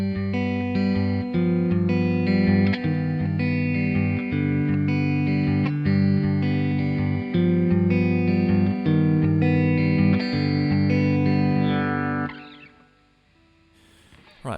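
Electric guitar picks out a steady, flowing arpeggiated pattern from a song with a slightly effected, distorted tone, playing continuously before fading to near silence at the end.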